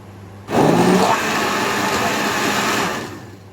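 A kitchen blender blending ingredients for green ofada stew suddenly whirs on, runs loudly and steadily for a few seconds, then winds down.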